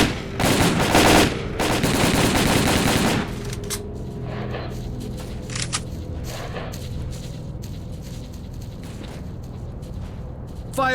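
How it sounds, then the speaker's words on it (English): Heavy automatic gunfire in S.T.A.L.K.E.R. Call of Pripyat, a dense, loud rattle of bursts for about three seconds, then scattered single shots and fainter, more distant volleys. "Check your weapons and fire at will!"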